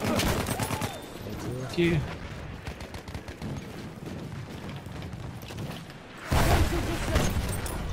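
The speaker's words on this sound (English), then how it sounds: "I shot that guy right in the face" Rapid gunfire crackles through a Battlefield 1 match in steady bursts, with a louder volley near the end, while players talk briefly over it.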